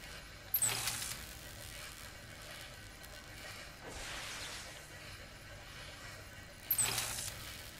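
Mechanical clicking of a lock puzzle in the video game The Order: 1886, with sharp ratcheting bursts near the start and end and a softer whir in between, close and clear with no talk.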